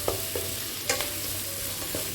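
Onion and capsicum cubes sautéing in a pan, a low steady sizzle with a few light spatula taps and scrapes, close and quiet, no voices.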